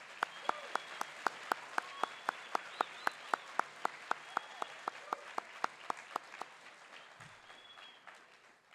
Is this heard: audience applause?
yes